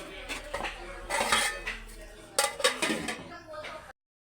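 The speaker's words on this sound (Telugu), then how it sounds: "నేనైతే ఇలాగా వాటర్ పోసేసి మూత పెట్టేస్తున్నాను" Metal clanks and clatters as a lid is set onto a cooking pot of prawn curry after water is added, with scraping kitchen noise and a voice speaking underneath.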